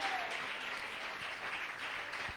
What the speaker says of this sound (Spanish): Alabado si alguien puede aplaudir el nombre del Señor